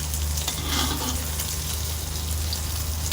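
Thai basil omelette frying in a pan, a steady close sizzle and crackle running throughout with a low hum underneath and no voices.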